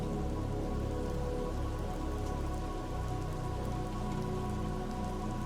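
Rain effect in a VRChat world, a steady constant patter of rain on surfaces, dense and unbroken from start to finish with no voices.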